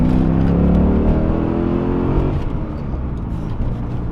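A C6 Corvette Grand Sport V8 pulling in second gear, heard from inside the car: a loud, steady engine roar with a rising tone that eases off midway, no talk.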